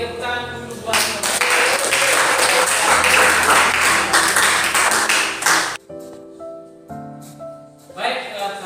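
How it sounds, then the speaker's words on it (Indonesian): Applause rises after a classroom group discussion presentation, a dense burst of clapping lasting about five seconds before cutting off abruptly, followed by quieter tonal sounds and talk. "Oke, tepuk tangan dulu buat"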